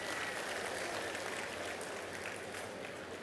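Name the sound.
audience clapping for the rangoli contest women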